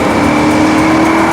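A Maserati Quattroporte Sport GTS with a 440-horsepower 4.7-litre V8 engine holding a steady, loud droning tone, close up for a brief moment with no talk.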